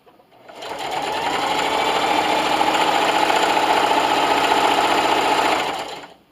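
A sewing machine runs steadily for about five seconds, stitching fabric for a lanyard or wristlet, with a smooth, fast, continuous mechanical whir and a brief start and stop at each end.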